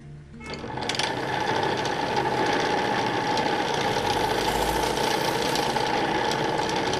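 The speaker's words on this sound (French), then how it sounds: "Donc on travaille avec la gouge à profiler que je vous ai montré tout à l'heure." Wood lathe spinning a small wooden cup while a profiling gouge cuts, starting up abruptly, then a steady close machine hum with a grinding whir of the tool against the wood.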